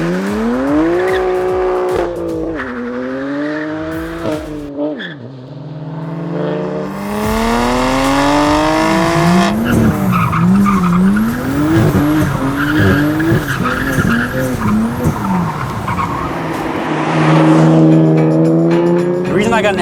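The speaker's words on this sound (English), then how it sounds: "I can obviously hear the exhaust now. I can enjoy the sound" A BMW M2 Competition with an S55 engine and Valvetronic exhaust revs hard through rising and falling gear pulls, its loud rasping exhaust note mixed with tire squeal, close and continuous throughout.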